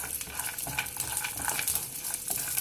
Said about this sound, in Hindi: इन नट्स को हम थोड़ी देर के लिए फ्राई करेंगे